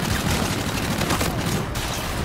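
Gunfire in a video game: a dense, continuous volley of rapid shots, loud and close, with no clear gaps between rounds.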